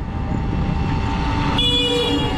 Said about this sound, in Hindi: हाँ तो हॉर्न बजा लो, बजा लो।